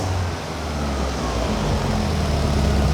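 A Ford Zetec engine idles in an MK Indy kit car, a steady, smooth low rumble with an even hum, close and continuous without talk.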